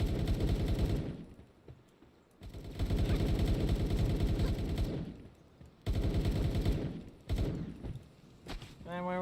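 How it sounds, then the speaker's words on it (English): Rapid submachine gun fire from a Pal companion in Palworld comes in long rattling bursts, three sustained volleys separated by short pauses, loud and close with faint game sounds between. "Have its little submachine gun. And will shoot it with me."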